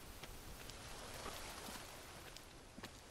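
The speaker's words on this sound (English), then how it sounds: "Stop raining." Rain falls in the jungle survival video game Green Hell, a faint, even hiss with a few light drop ticks, steady and distant throughout, with no talk.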